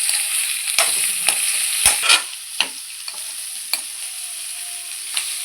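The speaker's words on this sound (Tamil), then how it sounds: "இந்த மாதிரி நல்லா ஃப்ரை ஆயிருச்சு." Vangibath mixture fries in a pan with a constant bright sizzle, while a spoon stirs and scrapes in irregular knocks over about five seconds, close and loud.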